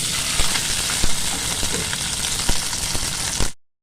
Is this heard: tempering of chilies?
yes